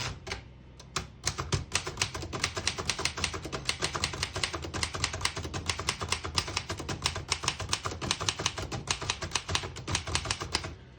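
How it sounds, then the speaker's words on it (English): Rapid, steady clacking of a 1932 Remington Porto-Rite portable typewriter typing a sentence, crisp key strikes in a quick uneven rhythm, close and fairly loud with no talking. "I'll type a sentence on the next line."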